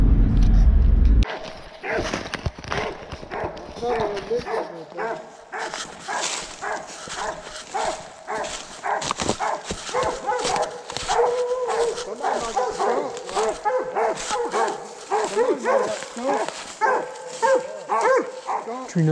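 Coon hunting dogs, Walker hounds and an English redtick, barking and bawling outdoors in rapid, overlapping bursts that continue steadily, fairly close and loud, after a brief rumbling noise at the start.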